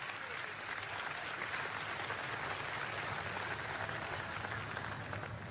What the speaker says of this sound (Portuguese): dar ao Senhor uma salva de palmas